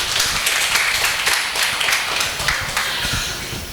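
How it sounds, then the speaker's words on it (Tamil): An audience at a Tamil textile shop's prize-giving ceremony claps steadily for a speaker being welcomed to the stage, a dense, even patter of many hands that fades slightly toward the end, with no talk over it. "கைத்தட்டி உற்சாகப்படுத்துங்க."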